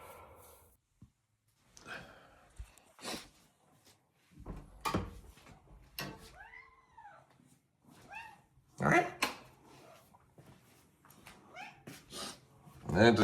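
A domestic cat meows in a drawn-out call, with a few softer household knocks and rustles before and after, fairly close in a quiet indoor room.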